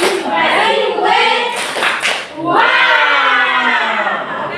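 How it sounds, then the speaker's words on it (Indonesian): A class of schoolchildren claps a rhythmic 'tepuk wow' cheer together, a run of quick unison claps and chanting voices filling the room, ending in a drawn-out shout. "Ayo kasih tepuk wow dulu untuk kelompok ketiga."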